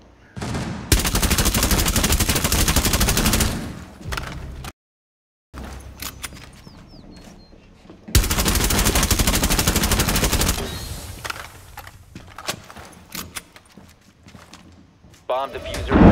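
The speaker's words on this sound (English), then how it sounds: "Jaeger, shoot through that wall to your left" Bursts of automatic gunfire from Rainbow Six Siege, fired through a wall on the Coastline map, come in two long loud volleys separated by a brief silence, with scattered shots and game noise trailing after.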